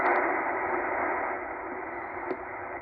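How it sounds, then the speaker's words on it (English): An Olivia digital-mode signal received on a Tecsun H-501X shortwave radio in single-sideband mode on the 40 or 80 meter amateur band: a steady, dense hiss-like warble of data tones that carries on alone for a few seconds. "this here sounds like some Olivia or something like that."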